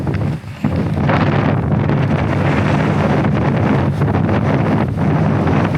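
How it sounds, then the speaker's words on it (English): Strong outdoor wind buffeting the microphone, a loud continuous rumbling roar with gusty swells that covers the whole stretch with no clear speech. "the wind's blowing you so hard right now"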